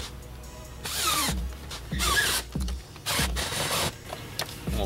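Screws being driven down on the air filter box of a 2018 Buick Enclave, with three or four bursts of buzzing, whirring tool noise separated by brief pauses, close and fairly quiet.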